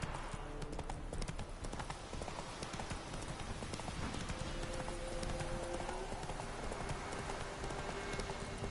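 Hooves of Roach, the galloping horse in The Witcher 3, drum out a fast continuous clip-clop that stays loud and close throughout, with faint tonal game sounds behind.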